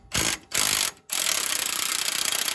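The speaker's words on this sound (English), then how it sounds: "we're gonna go ahead and remove the nut and the bolt from the bottom of the strut. 24 millimeter socket" A 24 mm socket on a power tool backs off the lower strut nut and bolt on a 2013 Ram 1500 4x4, with two short rattling bursts and then a longer, steady, rapid hammering run, loud and close.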